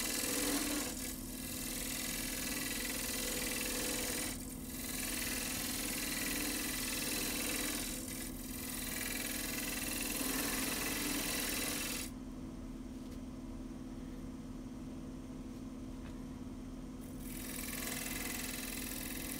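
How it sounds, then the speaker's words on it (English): A wood lathe spins a mystery-wood vase as a gouge takes light shavings, a steady motor hum with rasping cutting passes that stop and start, then a quieter stretch before cutting resumes. "I'm just taking light cuts, but it's taking off nice shavings while I'm doing this"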